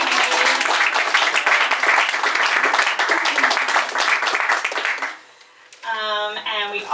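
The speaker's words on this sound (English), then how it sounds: "So maybe we could all just have a little round of applause." Clapping fills a bookstore poetry slam gathering as a loud, dense round of applause lasting about five seconds, fading out before a voice resumes speaking.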